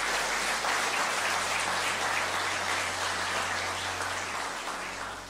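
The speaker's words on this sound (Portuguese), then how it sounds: "Vamos aplaudir ao Senhor Jesus por isso?" A church congregation applauds during a Portuguese-language sermon, a broad, fairly quiet roomful of clapping that keeps up steadily and slowly fades toward the end, with a low hum underneath.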